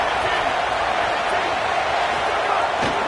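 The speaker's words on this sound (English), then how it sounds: "This crowd bringing the energy and noise early." A football stadium crowd roars as a steady, dense wash of noise throughout, loud and unbroken, with no distinct voices standing out.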